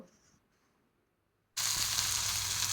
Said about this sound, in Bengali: এটাকে দিয়ে আবারও এর সঙ্গে খুব ভালো করে ভেজে নেব।